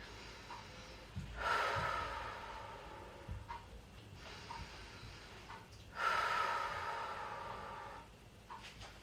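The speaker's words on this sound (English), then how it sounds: "Keep breathing in through the nose, out through the mouth" Slow, relaxed breaths drawn in through the nose and released through the mouth during a calming Pilates session for anxiety, two long airy exhalations standing out close and soft against a quiet room.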